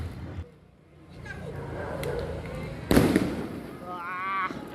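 Diwali fireworks go off on a rooftop with loud crackling bursts and one sharp bang near the middle, rising whistles following, while people talk throughout.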